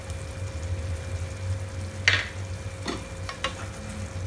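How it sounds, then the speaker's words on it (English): Aloo fry with chopped coriander being gently mixed in a pan, a soft low sizzle under a few brief scraping strokes of a spoon, fairly quiet overall. "Mix it gently."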